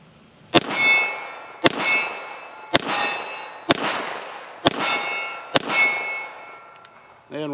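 A Canik TTI Combat pistol fires through a magazine of 147 grain rounds, six sharp loud shots spaced about a second apart, each with a ringing metallic tail, alone and close.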